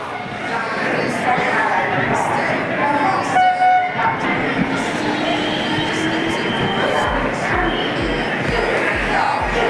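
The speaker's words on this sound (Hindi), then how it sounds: "आ गई हमारी ट्रेन।" A passenger train pulls into a busy platform at Ujjain railway station amid a noisy crowd and people talking. Rhythmic wheel clatter builds near the end as the coaches roll past close by.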